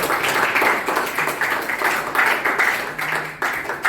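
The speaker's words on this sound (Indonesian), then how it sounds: "Beri tepuk tangan dulu untuk" Classroom full of students at a vocational high school clapping together, a steady dense patter of many hands, fairly close and sustained throughout.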